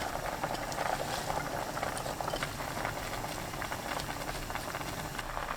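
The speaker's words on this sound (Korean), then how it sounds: "부르르 끓어오르면 바로 불 끄세요." Scallion soup comes to a vigorous boil in a pot over high heat, a dense, continuous bubbling and crackling simmer heard close up for several seconds with no voices.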